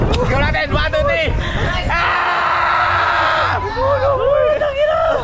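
Several people scream and yell together on a thrill ride, a loud sustained group shriek with shouting voices before and after.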